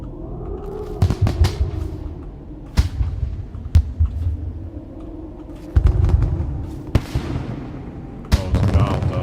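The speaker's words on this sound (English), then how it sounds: "That was quite annoying with the constant sound of fireworks" Fireworks burst repeatedly in the game Dishonored, sharp cracks and booming thuds scattered irregularly over a low rumble, some close and loud, others more distant.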